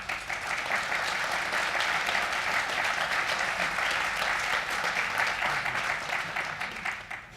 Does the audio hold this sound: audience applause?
yes